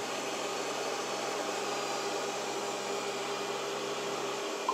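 An Ecovacs T30 Pro Omni robot vacuum runs with a steady, even whir of motor and suction noise, close and constant with no breaks.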